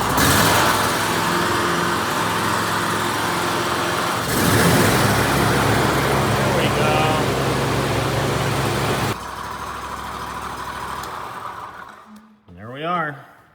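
A Scag mower engine fires up and runs with a loud, steady drone that shifts pitch partway through, then cuts off and gives way to quieter sounds near the end.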